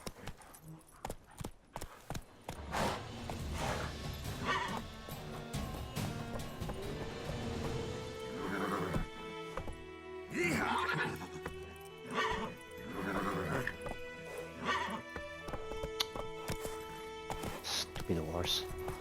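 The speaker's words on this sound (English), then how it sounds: "Stupid horse." A horse in The Witcher 3 neighs loudly several times over steady clip-clopping hooves, with a player talking over the game sounds.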